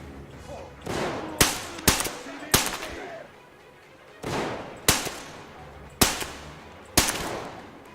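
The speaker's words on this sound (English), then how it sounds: "You're shooting in that direction" Gunfire in the video game Metro Exodus: sharp, loud single shots spaced irregularly, each with a rolling echoing tail, heard alone.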